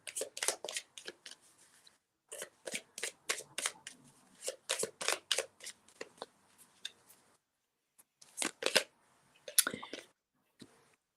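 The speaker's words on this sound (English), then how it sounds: "Let me shuffle for one more card." A deck of playing cards is shuffled close up in a quiet room: repeated crisp riffling bursts in irregular groups, with short pauses between them.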